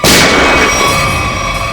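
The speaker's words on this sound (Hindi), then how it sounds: "सर गोली चली यहां से।" A single gunshot in a Hindi CID crime drama scene: a loud, sharp crack right at the start, trailing into a long reverberant decay.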